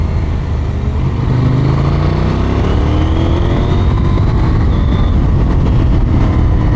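A KTM 890 SMT motorcycle with a parallel-twin engine accelerates hard, its loud engine note rising steadily through the revs with strong wind rush, recorded close from the rider's position.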